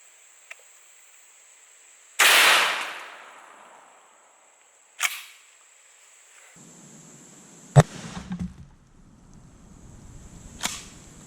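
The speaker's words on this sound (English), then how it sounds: "now we're going to shoot the Macho Gaucho into our watermelon down the range" A Bolo 12 gauge shotgun shell, the Macho Gaucho, fires at a watermelon down a range: one loud, sharp blast with a lingering tail, followed by a few fainter cracks and thumps, no talk.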